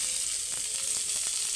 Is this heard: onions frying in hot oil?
yes